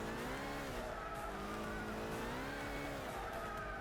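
Historic race car at about 160 mph in Gran Turismo 6, a loud steady high-revving engine whine with shifting pitch and faint tire scrub, continuous with no talking.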